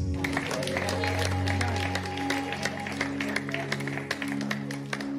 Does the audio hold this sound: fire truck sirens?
no